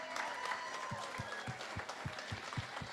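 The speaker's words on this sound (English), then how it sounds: "Can we give him a round of applause?" Applause from a press conference audience, fairly faint and distant, with a row of sharper, evenly spaced claps standing out nearby over the softer crowd clapping.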